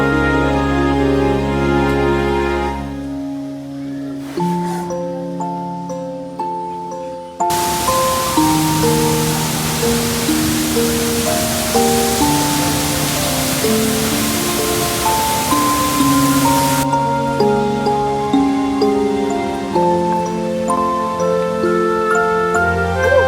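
The La Paz Waterfalls in Costa Rica give off a steady, broadband rushing roar that swells for about ten seconds in the middle, with melodic background music running throughout.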